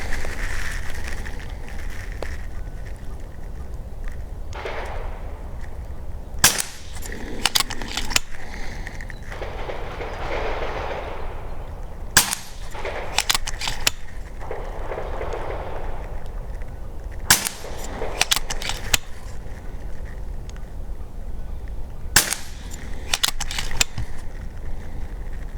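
An FX DRS air rifle fires AEA pellets at targets, giving sharp, close cracks in small clusters about every five seconds, each followed by brief mechanical clicks and soft rustling against a quiet outdoor background.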